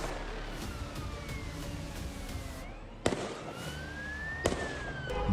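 Gunfire in a shooting at Bondi Beach, Sydney: two sharp, loud cracks a second or so apart ring out, with sirens wailing and sweeping in the background throughout.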